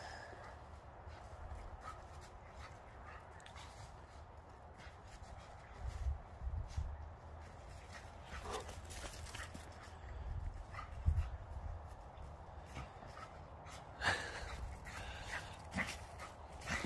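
Several dogs, including a Labrador, a Golden Retriever, a Bernedoodle, a Boerboel and a Mini Aussie puppy, whimper faintly with an occasional soft yip indoors against a quiet background.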